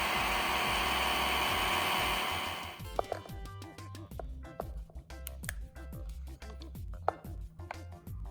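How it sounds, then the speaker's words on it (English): Blender whirring through boiled condensed milk and sour cream for a cake cream, a loud steady buzz for nearly three seconds before cutting off, followed by scattered clinks and light kitchen handling noises with music underneath. "Add 5 tablespoons of sour cream and blend again."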